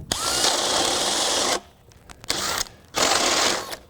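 A DeWalt cordless drill with a 1 inch spade bit bores in loud, close, whining bursts, one long run followed by a brief pause, a short burst, another pause, then a second long run.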